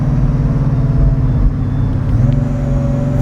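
A Bugatti Veyron Grand Sport engine, heard loud from inside the car, as a dense, deep mechanical drone that holds steady and then shifts pitch slightly partway through, with no talking.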